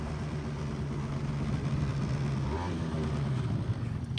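A Honda Dio AF-35 scooter engine idles steadily and close by in a low, even drone, with a faint voice briefly audible behind it.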